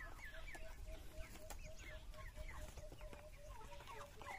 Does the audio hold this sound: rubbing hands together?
no